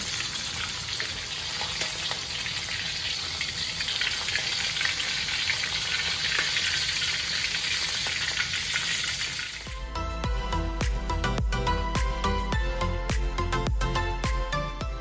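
Large torpedo scad fish frying in oil in a small wok, a steady loud sizzle and crackle throughout that turns to clattering, sputtering pops near the end, close by with no talk.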